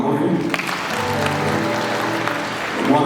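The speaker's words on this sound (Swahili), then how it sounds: "tupige mama makofi" Audience applause at a community blood donation event, a crowd of hands clapping steadily for a few seconds while voices speak over the clapping.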